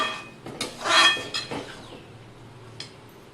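Scraping and clinking of a spoon against a heavy pot while puran, a sweet lentil filling, is stirred until thick over medium heat, a few close irregular knocks, the loudest one early, then quieter scraping.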